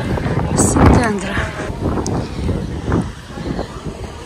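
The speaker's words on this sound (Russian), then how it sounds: "Но ветер дует." Wind buffets the microphone with low rumbling gusts while a person speaks over it.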